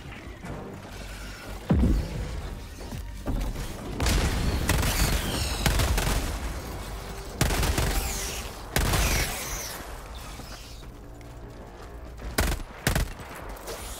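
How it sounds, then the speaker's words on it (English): Orbital strike explosions in Helldivers 2 hit as a barrage of heavy booms and blasts, loud and repeated across the span with crackling gunfire-like bursts in between and no talk. "Firing orbital strike."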